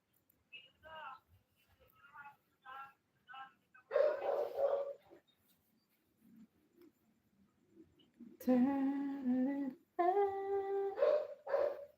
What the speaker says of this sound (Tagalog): Ingay yung aso. Tahol ng tahol.